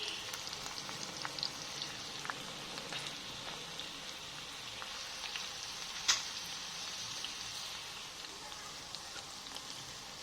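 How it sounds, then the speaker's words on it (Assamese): Okra frying in hot oil for crispy bhindi, a dense steady hiss and crackle like light rain, close and even throughout with a few sharper pops and no talk. "আৰু এইখিনি মই এতিয়া ফ্ৰাই হ'বলৈ দিছোঁ।"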